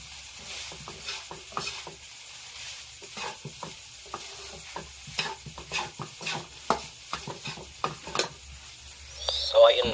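Garlic fried rice cooks in Star Margarine in a pan, with a low sizzle under frequent rhythmic scraping and stirring strokes of a spatula. The sound is close and there is no talking.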